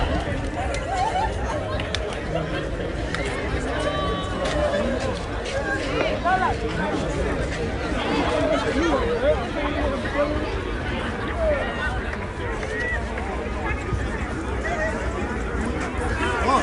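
Steady crowd chatter fills an indoor basketball game during a timeout, a continuous hubbub of many overlapping voices with occasional shouts, neither rising nor fading across the stretch.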